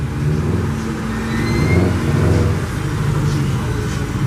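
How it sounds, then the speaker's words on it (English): A race car engine revving nearby, a steady loud rumbling drone that swells slightly midway and holds without pause. "Oh, fucking race car."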